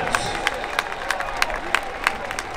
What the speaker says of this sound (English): please give our newest Hall of Fame members a warm Grandma Nation round of applause